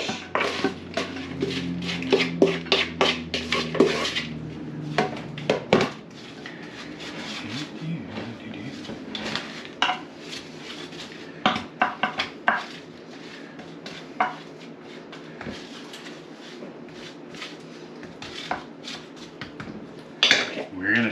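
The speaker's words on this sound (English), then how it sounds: "Now we are going to put it into our casserole dish." Hashbrown casserole mixture being scooped into a casserole dish, with repeated clinks and scrapes of a utensil against the dish and bowl, and quieter shuffling between them.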